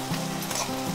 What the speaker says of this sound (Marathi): मसाले आपण लो गॅसवर छान असे खमंग परतून घेऊया.